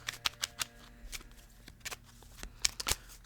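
A deck of playing cards being shuffled by hand during a quiet, soft-spoken card game: crisp riffling bursts and clicks come in an irregular rhythm, close and fairly soft, with no talking.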